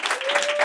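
An audience claps for podcast guest Ana Mar Orihuela, a short, dense burst of steady applause at moderate volume.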